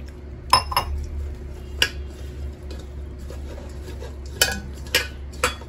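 Salt and spices being stirred into dried anchovies in a bowl, with scattered metallic clinks and scraping taps of a spoon against the dish, fairly quiet and close, with no talking.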